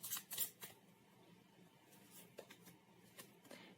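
Tarot cards are shuffled and drawn from a deck during a Hindi tarot reading, giving a quiet run of crisp riffles, flicks and soft slaps, busiest at the start and then as scattered single snaps.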